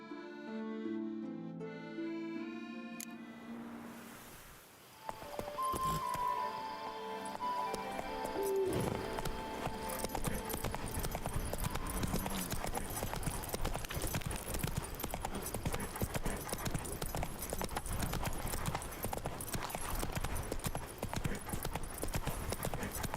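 Hoofbeats of Roach, the horse in The Witcher 3, clip-clop in a steady galloping rhythm over continuous game music and ambience, loud and close after a quieter opening few seconds.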